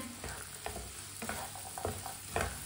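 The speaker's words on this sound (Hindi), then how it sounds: "अब इसे 5 मिनट के लिए ऐसे ही चम्मच चलाते हुए पका लेते हैं।" A spoon scrapes and stirs peas and eggs frying in a pan, with irregular scraping strokes over a steady low sizzle, close and fairly quiet with no voices.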